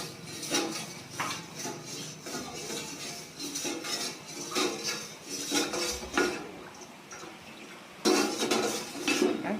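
Pandan coconut jelly is stirred in a pot on the stove, with close, repeated scraping and clinking of a utensil against the pot in uneven strokes.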